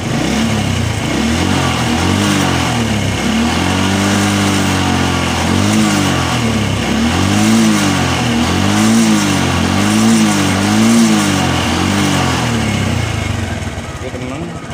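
A motorcycle engine cranked by its starter and revved repeatedly, loud and close, the pitch rising and falling in several rev cycles before settling near idle, with a voice speaking over it.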